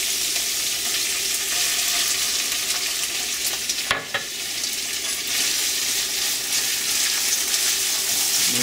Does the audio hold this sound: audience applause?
no